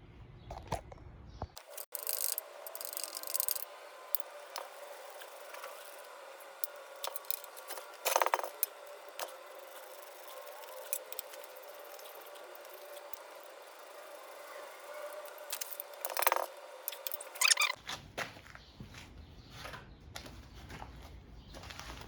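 A wrench clicks and clinks metallically on the intake manifold bolts of a Honda D16Y8 engine, giving scattered light taps and jangles up close, with a louder rattle at the start and end.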